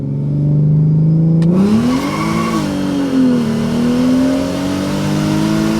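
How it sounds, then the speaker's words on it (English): A Mercedes SLK32 on Mickey Thompson drag tires makes a full-throttle pull, its engine note climbing steadily and loudly from start to finish with no talking over it. "we'll do a nice pull"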